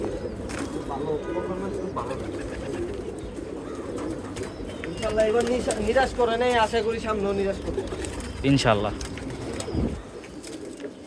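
Pigeons in a home loft kept for breeding coo softly and repeatedly in the background while someone talks over them nearby.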